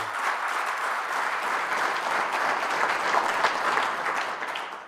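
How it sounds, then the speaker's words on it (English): An audience at a regional state address gives a steady, sustained round of applause, an even wash of many hands clapping with no break. "We owe you a serious round of applause for your contribution and support to this region"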